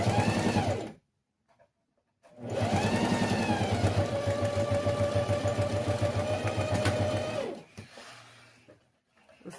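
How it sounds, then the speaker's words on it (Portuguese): Sewing machine stitching fabric for a pencil case, a steady mechanical whir in two bursts of about one and four seconds, close and fairly loud, separated by pauses with no talk. "E costura-se. Alinhando e costurando."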